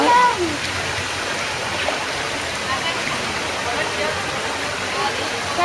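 Water running steadily in a garden, a continuous rushing flow close by and fairly loud, with faint voices under it.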